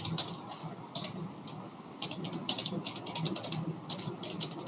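Someone types an email address on a computer keyboard, a steady stream of light clicky keystrokes, close and continuous over a faint room hiss.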